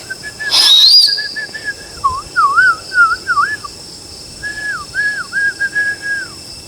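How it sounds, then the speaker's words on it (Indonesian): A person whistles a short note, then repeated looping whistled phrases answered by a bird calling in a forest at Telaga Biru, clear and close against a quiet insect background. "Burungnya nyaut."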